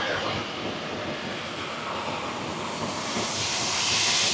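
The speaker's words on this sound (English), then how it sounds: "we need to perform dry crank, which will test the starter" Airbus A320 engine turning on its starter during a dry crank, a loud, steady rushing hiss and whine that builds slightly toward the end.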